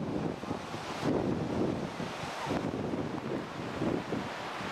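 Strong wind at Sunny Beach in Bulgaria buffets the microphone in continuous rumbling gusts, with a wash of surf underneath and no voices.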